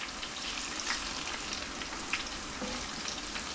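Tortilla chips fry in hot canola oil, giving a dense, even crackling sizzle that holds steady throughout with faint bubbling pops and no voices.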